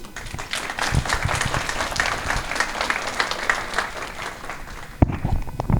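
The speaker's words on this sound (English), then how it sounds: "Let's give our students a round of applause." Audience applause for students at a law school ceremony: a dense, steady clapping that stays at one level through the passage, with a brief pause and a sharp clap near the end.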